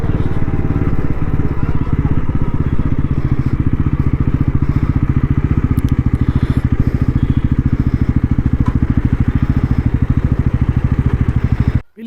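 A motorcycle engine runs close by in rapid, even pulses, a loud throbbing idle or steady ride that continues unbroken for about twelve seconds before cutting off abruptly.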